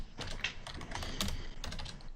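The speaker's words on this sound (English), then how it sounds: "Typing on screen never works the same." Rapid, steady clatter of keys on a computer keyboard, close and continuous for a couple of seconds, no voice.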